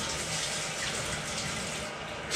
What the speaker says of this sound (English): And then we're going to fill it up with a bit of water